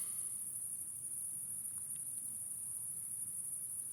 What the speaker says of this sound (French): Tu entends les grillons?